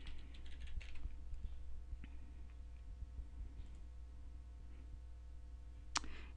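Quiet keystrokes on a computer keyboard as a username and password are entered, a scattered soft run of taps over a steady low room hum, with a sharper click near the end.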